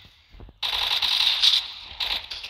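Rapid bursts of automatic gunfire in a Roblox zombie video game, a sharp onset followed by a steady rattling stream of shots with brief gaps, fairly close and alone without talk.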